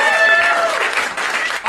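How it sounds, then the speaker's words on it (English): Studio audience applauding an interview guest on a comedy talk show, a steady wash of clapping for under two seconds, with voices and some tonal sound mixed in underneath. "Clap for him, too,"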